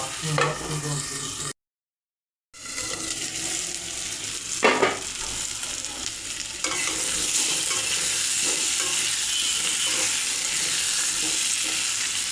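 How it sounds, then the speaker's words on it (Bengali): Potatoes frying in oil in a pan while duck curry is prepared, giving a steady close sizzle with stirring scrapes, a short silent gap near the start, and the frying growing louder and denser in the second half. "লাল লাল করে আলু ভেজে নেব"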